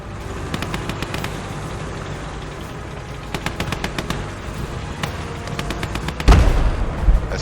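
Tank cannon and gunfire from an SU-122 and SU-85 battle in the WWII game Gates of Hell: repeated sharp shots in scattered bursts, then a heavy boom near the end over constant battlefield rumble.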